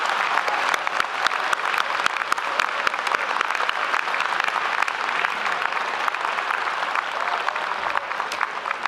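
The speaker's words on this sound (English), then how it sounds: "Let's give all of our graduates one last big round of applause." Audience at a University of Regina fall convocation applauding graduates: sustained, even clapping from a large crowd in a hall, continuous from start to finish with no talking over it.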